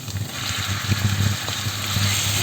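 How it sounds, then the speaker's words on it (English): Chopped tomato sizzles in hot oil in a frying pan alongside minced beef for spaghetti bolognese, a steady, continuous close-up frying hiss with no break. "Add my chopped tomato"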